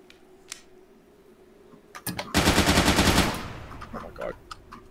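A loud burst of automatic gunfire from a tactical shooter video game erupts partway through, rapid and evenly spaced for about a second, then followed by scattered clicks and faint game noises.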